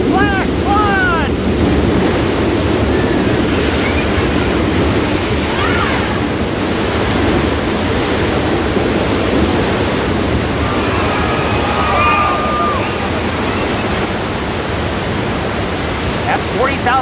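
Artificial flash flood on the Universal Studios Hollywood backlot tour, about 40,000 gallons of water rushing down a hillside, giving a loud, steady broadband roar throughout with brief voices and shouts over it.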